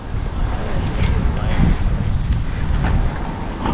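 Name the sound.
strong wind blowing into microphone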